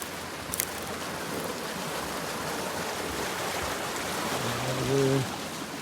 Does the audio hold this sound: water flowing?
yes